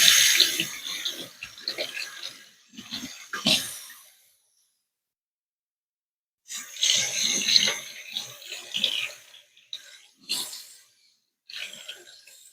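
Kitchen tap water running as mushrooms are rinsed for breading, an intermittent splashing hiss that starts and stops in bursts with a silent gap in the middle, close by and without talk.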